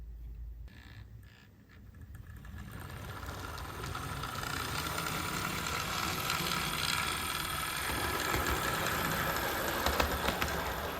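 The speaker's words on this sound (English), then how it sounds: "this is a little Walthers Trainline locomotive which should run super smooth and super quiet" A Walthers Trainline Soo Line FA-1 model locomotive with a suspected cracked gear runs noisily, a steady mechanical whir and grinding buzz that builds after a brief start and continues unevenly throughout.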